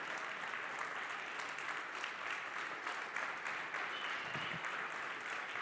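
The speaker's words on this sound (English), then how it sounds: "stand up and give the Tizeti team a round of applause" An audience at a talk on connected schools in Nigeria stands and applauds the Tizeti team, a sustained, even wash of many clapping hands heard from a distance, fairly faint and continuous throughout.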